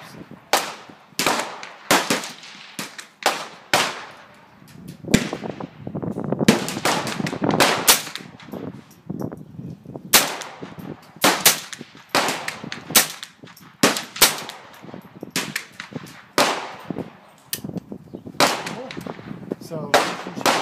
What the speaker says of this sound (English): Fired off all the 5 rounds that I had on it.